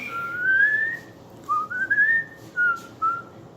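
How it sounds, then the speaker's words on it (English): A person whistles a few wavering, sliding notes after tasting lucuma fruit, first one long rising tone, then several shorter phrases with brief gaps, close and fairly clear. "I can whistle while you're eating it."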